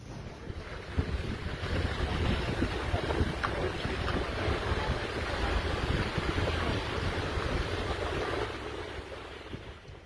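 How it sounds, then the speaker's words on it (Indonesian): Strong storm wind in Oradea on 25 July 2023, the storm that brought down trees and damaged roofs: a steady, dense roar of gusting wind buffets the microphone throughout, with no voices. "Badai yang kuat menyebabkan kerusakan yang signifikan di Oradea pada Selasa, 25 Juli 2023."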